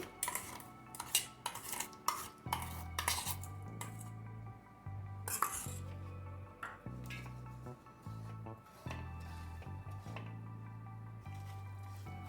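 Edible gum roasts in ghee in a pan as a utensil stirs it, giving repeated metallic scrapes and clinks against the pan over a quiet sizzle, close and moderately loud.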